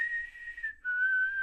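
A single person whistles two clear sustained notes imitating a character's whistle, the first held steady and then sliding down into a lower, slightly falling second tone, close and alone.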